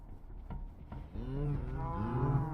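A cow in a Minecraft-style game lets out a couple of low, drawn-out moos after a few soft clicks, close and clear with nobody speaking.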